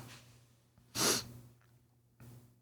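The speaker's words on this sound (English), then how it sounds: "I'm sniffling from the cold." A person with a cold sniffles through the nose, one sharp audible sniff in the middle and a softer one at the end, close to the microphone over faint background hum.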